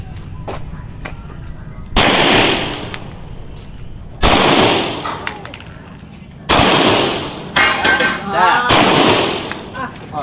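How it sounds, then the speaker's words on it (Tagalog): Four sharp, loud gunshots crack out at a firing range in Norzagaray, Bulacan, spaced a couple of seconds apart, with a quick burst of extra reports near the end and voices speaking between shots. "Ready. Firing!"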